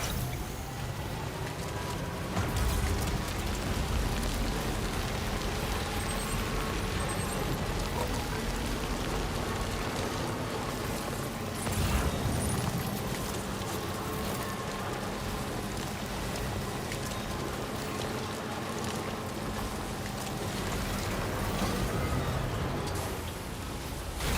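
Steady timefall rain in Death Stranding 2 falls continuously, a dense soft hiss of drops on surfaces that holds at an even level throughout, with low rumbling ambience underneath and no talking.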